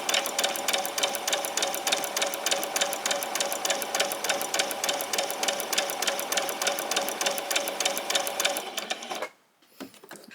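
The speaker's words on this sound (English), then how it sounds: "we're just going to do a straight stitch straight across" A sewing machine runs a straight stitch across an apron in one steady, fast, close-up burst of even needle clatter, then stops abruptly near the end, leaving brief quiet handling.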